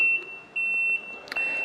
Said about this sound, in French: vous entendez que ça fait un bip assez léger